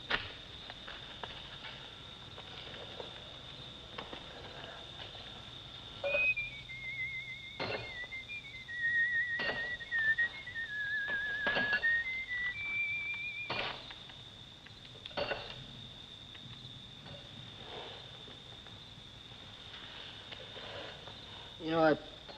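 A person whistles a wavering, meandering tune in the foreground, with quiet background noise and a few soft knocks around it.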